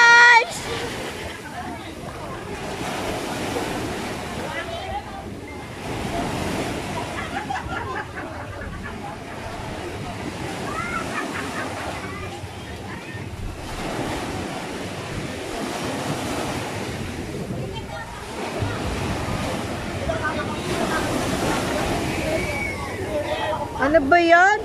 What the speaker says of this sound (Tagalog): Ang lakas na nga, ang laki na ng alon.